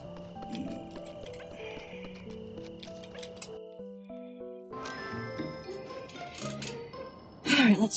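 Horse hooves clip-clop in the video game Little Goody Two Shoes, a quick run of light taps over layered game music, with a brighter burst near the end.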